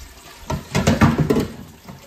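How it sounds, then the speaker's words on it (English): Liquid briefly splashes and gurgles into a sink, a short pour lasting about a second before fading out. "I'm gonna pour that in the sink."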